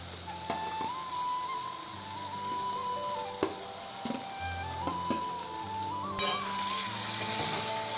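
Fried potatoes go into a sizzling chana masala spice paste, giving a steady close frying hiss with scrapes and clinks of stirring in the pan, and the sizzle brightens and swells near the end.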